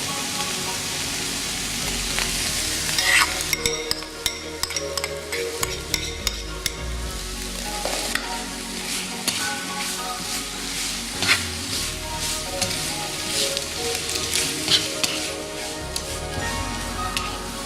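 Chopped leek sizzling in a pan while being stirred, with steady broadband frying hiss and frequent scraping clicks of the utensil, moderately close and with no talk, in a kitchen preparing Vietnamese spring roll filling.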